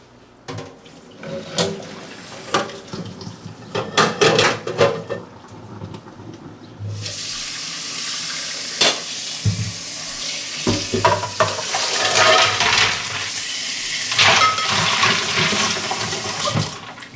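Drained boiled eggs tumble into a large bowl of ice and water: a few knocks and clinks at first, then a sudden, sustained rush of pouring, splashing water that runs on loudly to the end.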